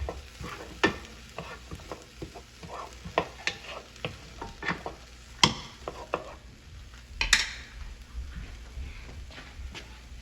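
Half an onion, chopped, frying in a pan for homemade beefaroni, crackling and sizzling up close with frequent sharp spatula scrapes and taps in an irregular rhythm, no talking.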